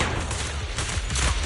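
Rapid gunfire in Zenless Zone Zero, a dense, loud burst of shots under noisy game effects for about a second and a half.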